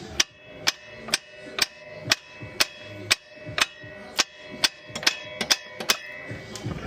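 Sharp metallic hammer strikes on a ball joint of a 2015 Subaru Forester ring out one after another at a steady pace, about a dozen loud clangs close by with short ringing decays.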